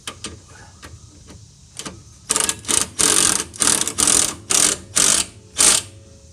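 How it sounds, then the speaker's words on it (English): Impact wrench tightening a sway bar link nut on a Honda Element: a few faint clicks, then about eight loud, rapid bursts of hammering, evenly spaced and close by. "do you need me to get the impact wrench to do this"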